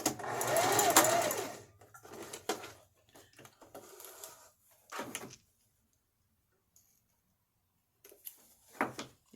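Sewing machine stitching shapes into fabric with purple thread, a steady loud mechanical whir for about two seconds, then stops and starts with scattered shorter bursts, clicks and handling noises as the fabric is pivoted.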